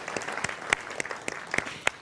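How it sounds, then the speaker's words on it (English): A small audience claps faintly and sparsely, a few distinct hand claps ringing out over quiet room noise in a brief, scattered round of self-applause. "Yes, you can applaud yourself for that."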